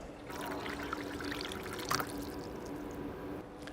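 Water pours steadily into a sink in a continuous soft trickling stream, faint and unbroken, with a brief splashy swell partway through and no voices.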